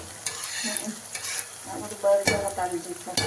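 Ghee heats in a pan on a gas burner at home, giving a soft bubbling sizzle with scattered spoon scrapes and clinks, close by and fairly quiet, growing a bit louder toward the end.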